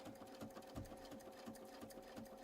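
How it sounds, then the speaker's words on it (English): A sewing machine ditch-stitches a quilt seam down a channel, a faint, rapid, even run of mechanical clicks and whirring with no voices. "We're just sewing down this channel as we would if we were ditch stitching a quilt."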